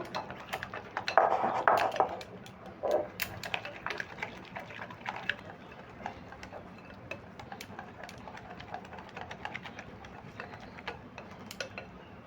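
A whisk or spoon beating a bread batter with Kashmiri chilli powder in a bowl, a fast, irregular run of light clinks and taps against the bowl, fairly quiet and close.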